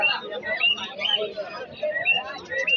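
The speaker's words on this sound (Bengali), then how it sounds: "এখানে অনেকগুলো কবুতর আছে" Pigeons, quail and other caged birds chirp and call in quick repeated bursts at a busy rural livestock market, with crowd chatter underneath.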